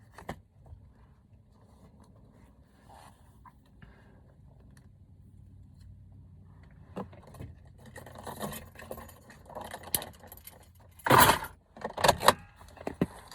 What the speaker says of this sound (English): Taking my keys out the ignition